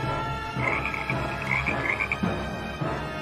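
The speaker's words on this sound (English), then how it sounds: "Then came the frogs, countless in number, covering the land." A dense chorus of frogs croaking continuously, many overlapping calls in steady rhythmic pulses, fairly loud and close, with no voices.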